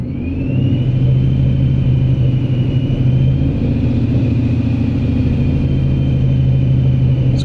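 A supercharged Ford S197 Mustang fitted with a Paxton 2200SL idles close by with a steady, deep, throbbing rumble, while a faint supercharger whine sits above it throughout.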